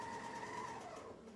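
A sewing machine hums steadily at a moderate pace, a continuous whirring stitch sound close by that slows slightly toward the end.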